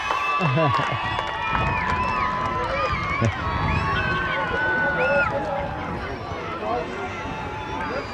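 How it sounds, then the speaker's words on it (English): A football crowd at a Mid West A Grade grand final roars and cheers after a goal, loud and sustained, with whistles and shouts over the noise and a commentator talking throughout. "And again, the crowd erupts."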